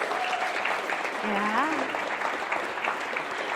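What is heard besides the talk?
audience applause for community builders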